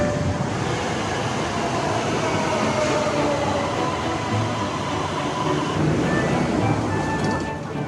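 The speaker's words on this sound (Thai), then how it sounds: "ตอนนี้เราก็อยู่ที่สถานีบางซื่อครับซึ่งก็ถือว่าเป็นสถานีที่เป็นหับสำคัญเลยของการเดินทางด้วยรถไฟในกรุงเทพนะครับ" Train rumbling through Bang Sue railway station in Bangkok, a major rail hub, with a steady, continuous roar of rolling wagons and station din, fairly loud throughout with no talk.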